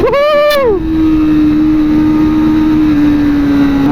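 A Kawasaki Vulcan S 650 cruiser motorcycle engine blips high after a downshift, then settles into a loud, steady drone close by.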